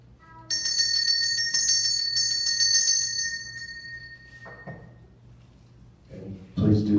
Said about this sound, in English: just ring this bell